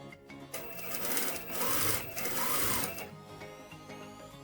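An overlock sewing machine runs continuously up close, stitching along the edge of flared skirt fabric with a fast, even mechanical whir that swells slightly and then eases off.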